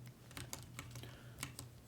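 Quiet, rapid tapping of computer keyboard keys, a steady run of soft clicks close by with no talking.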